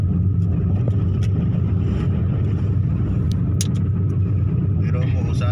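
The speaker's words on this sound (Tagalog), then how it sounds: "traffic na dito." Busy road crowded with cars and trucks, a continuous low traffic rumble up close with brief passing clicks and swishes, and voices talking over it near the end.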